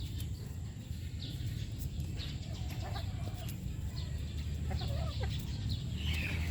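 A butcher-breed gamefowl hen on a farm gives soft, scattered clucks and short calls over a constant low rumble of background noise, with other birds faintly audible.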